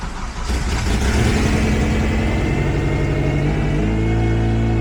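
An Acura RSX Type S with a swapped K24A engine cranks and catches, then settles into a loud, steady idle with a rhythmic low rumble close by.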